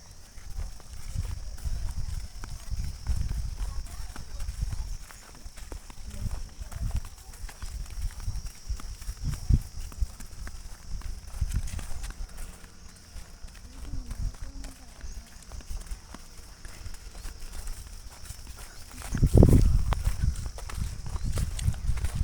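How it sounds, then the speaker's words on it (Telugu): Horses move across a riding ground, with hoofbeats thudding and clopping at close range in loose, uneven bursts. People talk throughout, and a sharp knock stands out near the end. "ఇక్కడనే గుర్రాలు హార్స్ రైడింగ్ చేస్తారు"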